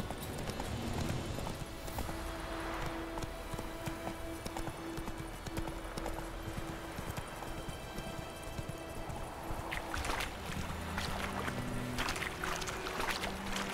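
A horse gallops in The Witcher 3, a 2015 video game, with rapid rhythmic hoofbeats that run steadily throughout, ending in a few louder splashy bursts.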